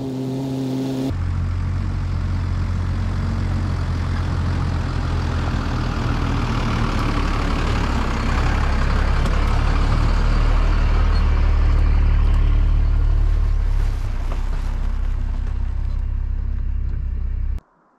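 A truck engine labours steadily as it drives up onto rural property, a low, continuous rumble with gradual rises in effort, heard close for most of the stretch before cutting off abruptly.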